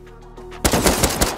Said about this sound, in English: It was suppressed AK, it must have fallen off, I got it.